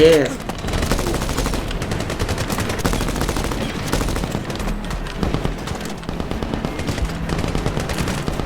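Continuous rapid machine-gun fire from the Medal of Honor video game, dense and loud throughout with steady bursts and no pauses.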